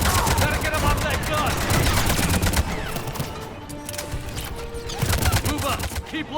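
Mounted gun in Mass Effect 3 firing dense rapid bursts amid a chaotic battle, loud and continuous with sharp repeated cracks and background combat noise.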